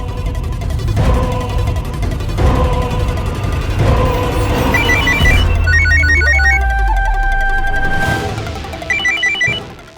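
A phone call rings out amid busy background sound from a TV drama, with short repeated trilling ring bursts over a dense, loud mix of music and noise.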